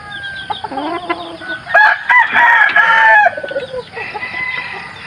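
A mestizo gamecock rooster crows loudly and close, one long harmonic call with clucking before and after it in a quiet rural setting.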